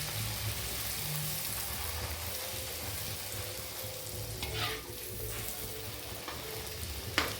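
Puris deep-frying in hot oil give a steady, continuous sizzle close up, with soft stirring and occasional bubbling bursts as they puff.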